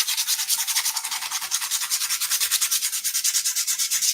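Quick, rhythmic back-and-forth sanding strokes on a model piece, close and fairly loud, scratching steadily with no talking.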